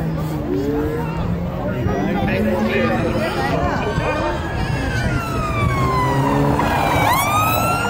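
Police car siren sweeping up and down at a Kent Police open day, loud and close over a steady crowd murmur, the wail continuing throughout and rising sharply near the end.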